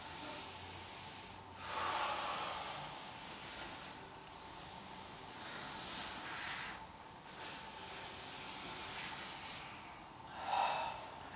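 Slow, soft breathing during a Systema solo tension-release exercise using a wall, with faint hissing exhalations that swell a few times and then fade. The sound is quiet and close, with no talking.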